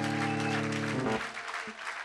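A church congregation applauding during a prayer service, a dense loud clatter of clapping with a sustained held tone over it that fades after about a second, and the clapping continues a little lower.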